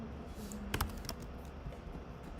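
A few quick clicks on a computer keyboard during a lecture, faint and brief, over a quiet room hum.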